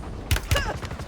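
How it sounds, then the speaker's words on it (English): Gunfire in the video game Warzone, two sharp close shots in quick succession followed by fainter rattling reports, with a voice briefly audible. "Taking fire!"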